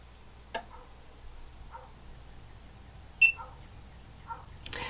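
A standing desk's control panel gives one short, clear electronic beep while saving a height preset, standing out amid quiet clicks and soft taps in a small craft shed.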